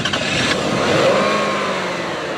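A car with a 2.5 litre six-cylinder engine accelerates, a loud steady engine drone rising slightly in pitch over about two seconds, close and without talk.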